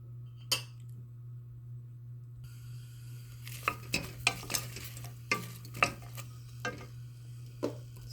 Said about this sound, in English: This I'm going to fry a little bit.